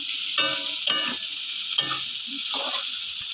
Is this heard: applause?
no